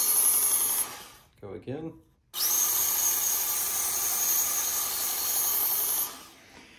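Sharpening the serrations of a Cold Steel knife at a steep angle to raise a burr, with a steady high hissing grind that runs for several seconds after a short gap and a brief spoken remark.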